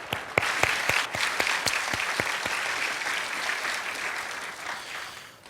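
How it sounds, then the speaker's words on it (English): An audience gives a round of applause at a live debate, a dense, steady wash of many hands clapping close by, with a few sharper claps standing out at the start and the sound holding evenly to the end. "Let's please give them a round of applause."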